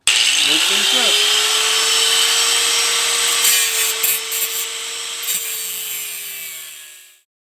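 A grinder and sander with 80 to 120 grit smooth the bodywork of a 1988 Chevrolet Monte Carlo G-body, a loud steady power-tool whine with rasping abrasion that runs for about seven seconds before winding down and stopping.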